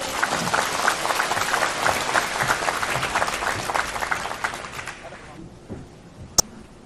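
An indoor audience claps in welcome for a speaker at a Buddhist gathering in Kaohsiung, Taiwan: dense sustained applause for about five seconds that fades quickly, followed by a sharp single click.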